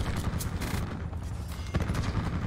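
Dense, continuous gunfire in a Black Ops 4 Domination match, with rapid overlapping shots and bursts that stay loud and close for the whole stretch, and no clear talking over it.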